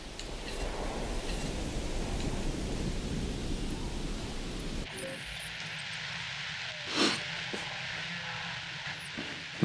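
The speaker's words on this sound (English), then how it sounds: "We've had some pretty bad storms so far" A thunderstorm in the dinosaur park game Jurassic World Evolution, with steady heavy rain hiss and rumbling thunder, then a shift to a quieter storm bed with a sharp crack partway through; a voice talks faintly underneath.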